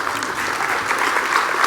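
Audience applause fills a gala awards dinner hall, a dense, steady clapping from a large crowd that holds at even loudness throughout without pause.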